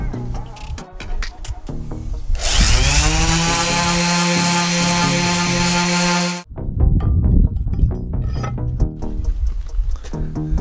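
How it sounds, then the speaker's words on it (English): Power sander grinding down a wooden mattock handle, a loud steady broadband whir with a sustained tone that runs for about four seconds before cutting off, framed by quieter handling and workshop noise. "what I'm gonna do now is just hit this with the sander"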